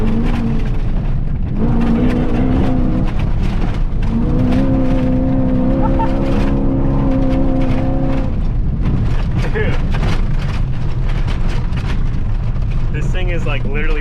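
A prerunner truck is thrown sideways through corners in the Plaster City desert, its engine roaring loud and continuous with rising and falling revs and tire scrub, while a person talks over it.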